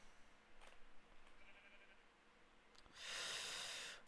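A sheep in the Minecraft video game gives a short, loud bleat near the end, preceded by faint soft game sounds and quiet background noise.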